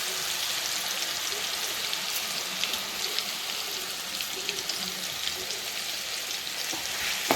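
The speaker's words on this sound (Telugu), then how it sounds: "అల్లం వెల్లుల్లి పేస్ట్ పచ్చి వాసన పోయే వరకు దూరగా వేసుకోవాలి" Ginger garlic paste fries in hot oil in a pan, giving a continuous dense sizzle with small crackles and pops, steady and close, with no talking.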